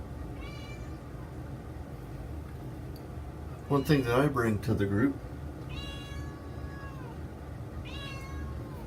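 A cat meows several times, with a rising call at the start and two more later, fairly close, while someone talks through the middle of the clip.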